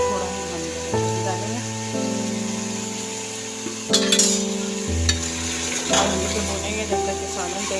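Achar gosht curry cooks in oil in a pot, giving a low sizzle under intermittent stirring and scraping knocks that step through several short bursts.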